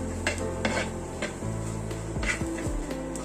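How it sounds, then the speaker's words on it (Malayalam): Coriander powder, Kashmiri chili powder and hot chili powder roast in a pan for a Kerala chicken curry while a spoon scrapes and knocks against the metal in an uneven rhythm over a faint sizzle, with no speech. "ഇത്രയും അങ്ങോട്ട് ചേർത്ത് കൊടുത്ത് നല്ലപോലെ ഇളക്കി അങ്ങോട്ട് മൂപ്പിച്ച് കൊടുക്കും"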